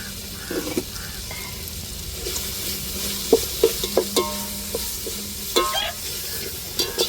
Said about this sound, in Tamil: இஞ்சி பூண்டு நல்லா வதக்கி விட்டுக்கணும்